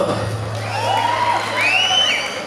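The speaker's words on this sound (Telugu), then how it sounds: "సుధీర్ అండి కొంచెం క్లాప్స్" An audience cheers and whoops for Sudheer as he comes on stage, a crowd roar with rising shouts and whistle-like calls swelling in the middle, heard close and fairly loud.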